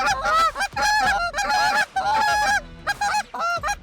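Loud, harmonically rich goose call blown in rapid bursts, imitating hen geese honking in a rhythmic series of short and drawn-out notes, close and alone.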